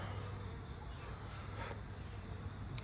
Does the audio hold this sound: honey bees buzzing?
yes